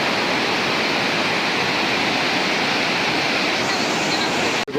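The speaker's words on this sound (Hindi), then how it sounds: "और नदी की आवाज़ सुनो" Mountain river rushing along the Nepal border near Dharchula, Pithoragarh, a loud unbroken roar of fast-flowing water that stays constant throughout and cuts out abruptly at the very end.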